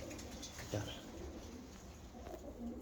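Racing pigeons coo inside a loft, soft low throaty calls rising now and then over quiet background noise, with a faint voice nearby.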